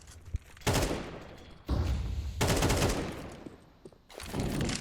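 Rapid AK rifle bursts and pistol shots from a Counter-Strike match on the Ancient map, coming in loud dense volleys separated by brief lulls, with sharp single cracks between the bursts.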